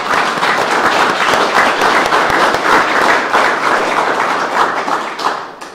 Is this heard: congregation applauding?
yes